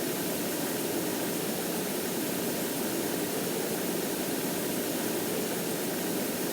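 Airbus A321neo jet engines at takeoff power in a flight simulator game, a dense, steady roar with broadband hiss that holds loud and unbroken throughout, with no talking.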